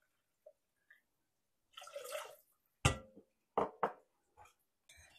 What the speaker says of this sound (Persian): آب اضافه میکنیم.